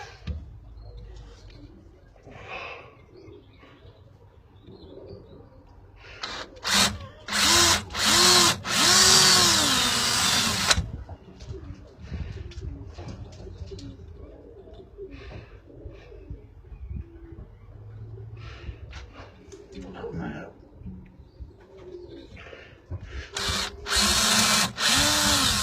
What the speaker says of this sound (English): we'll drill the holes for these to fit in there first.